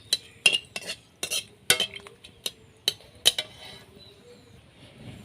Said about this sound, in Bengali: খুন্তি দিয়ে নাড়াচাড়া করে ভেজে নেব।